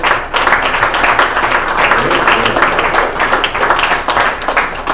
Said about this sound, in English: How about a quick round of applause for all the ladies in Canada for being here?